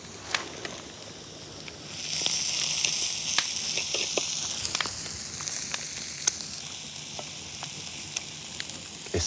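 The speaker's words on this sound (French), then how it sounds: "Encore quelques minutes, et je vais pouvoir y déposer mes filets de saumon." Salmon fillets sizzle and fry in a pan, a steady hiss that swells after a couple of seconds and carries on with small pops and crackles, close by and with no one talking.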